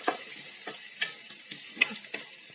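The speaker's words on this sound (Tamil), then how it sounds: "வெங்காயம், இஞ்சி, பூண்டு, பச்சை மிளகாய் எல்லாம் நல்லா வதங்கிடுச்சு." Chopped onion, ginger, garlic and green chillies sauté in a pan, with a steady sizzle broken by sharp scrapes and clinks of a spatula stirring every half second or so, close and alone.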